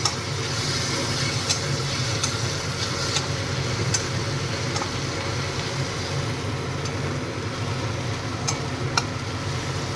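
Capsicum frying in a pan gives a continuous dense sizzle that holds steady throughout, with occasional sharp ticks and clicks scattered over it.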